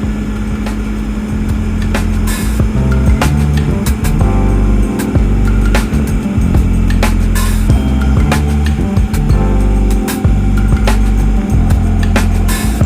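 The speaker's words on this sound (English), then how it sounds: "Looks like he's lined up and ready to drop the rail gear." High rail truck lowering its rail gear onto railroad tracks: a loud, continuous engine rumble and hydraulic drone with repeated sharp clanks and knocks of metal gear throughout.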